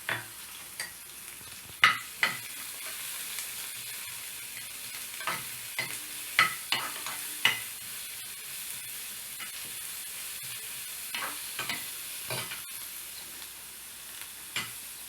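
Steady soft sizzling of large onions frying in a pan, with occasional clinks and scrapes of stirring throughout.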